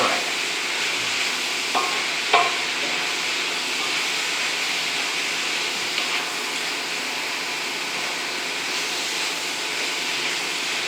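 Pork fried rice sizzles steadily in a hot wok while being stirred, with a few sharp spatula scrapes and clacks early on over a constant close hiss; no one speaks.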